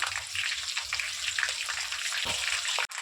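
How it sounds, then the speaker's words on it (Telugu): Green chilies frying in hot oil give a steady, close bright sizzle and crackle. The hiss runs on alone, with one short pause near the end. "నూనెలో పచ్చిమిరపాయలు ఇట్లా వేపుకుంటే టేస్ట్ బాగుంటుంది"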